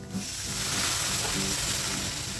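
Water poured into melted butter and flour in a pan for gravy gives a sudden, loud, continuous sizzle and hiss that stays steady with no talking.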